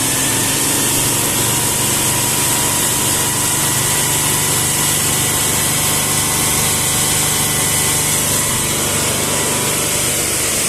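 Car engine held at 3000 rpm, a loud steady drone with a constant high whine and no change in pitch, continuous and close throughout.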